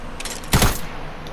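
A single loud burst of gunfire in a Fortnite battle royale match, sharp and close, standing out briefly over quiet game ambience.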